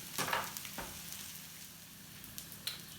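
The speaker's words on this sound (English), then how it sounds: "I'm going to give this another couple of minutes to cook on that side" Steady sizzling and crackling of a burger patty frying in a pan, with a few soft scrapes, close and fairly quiet, no voices.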